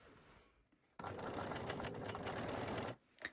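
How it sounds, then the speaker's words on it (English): A sewing machine stitches the waistline of lace-back Brazilian panties with a cover stitch or zigzag over elastic, a dense, steady whirring run of about two seconds that starts abruptly and stops cleanly, with quieter handling before and after. "sew the waistline using a cover stitch or zigzag or 3-step zigzag stitch"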